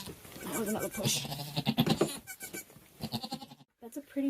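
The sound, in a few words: mother goat and newborn kid bleating to each other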